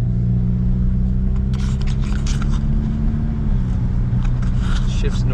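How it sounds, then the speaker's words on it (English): A SAAB 9-5 Aero with a leaky exhaust idles and rumbles loudly up close, a steady low drone with rasping bursts from the exhaust leak and a slight rise in revs partway through. "Leaky exhaust."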